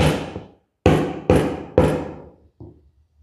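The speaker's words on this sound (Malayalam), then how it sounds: "ഈ അടയാളപ്പെടുത്തിയ ഭാഗത്ത് ഉളി ഉപയോഗിച്ച്" A chisel struck to cut holes in a file board gives four sharp, resonant wooden knocks at uneven intervals, each ringing briefly before fading, followed by a softer, duller fifth tap; close and loud, with silence between blows.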